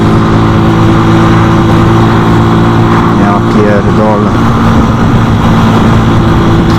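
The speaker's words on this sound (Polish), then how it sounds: "A ten tir co tak dojeżdża?" An approaching truck holds a loud, steady engine rumble with a heavy low drone throughout, while someone speaks over it.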